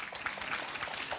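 Running mates of candidate Larrivé applaud in the audience of a municipal election debate in Auxerre, a brief, steady patter of clapping throughout.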